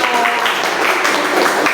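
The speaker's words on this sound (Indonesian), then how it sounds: "Oke, tepuk tangan. Terima kasih kelompok 1." Students applauding a group in a classroom, a short, loud burst of dense clapping with some voices mixed in.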